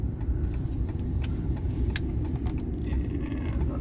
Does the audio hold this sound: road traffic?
yes